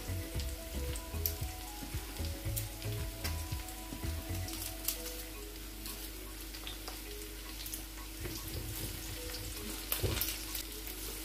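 Onions and garlic fry in a pan with a steady, close crackling sizzle and occasional stirring scrapes, with no talk over it.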